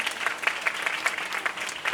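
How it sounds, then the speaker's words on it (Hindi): A crowd at a religious storytelling gathering claps for an honoured mother, a brief, moderately quiet patter of applause with uneven peaks over two seconds. "एक बार माता जी के लिए जोरदार तालियां बजाएं।"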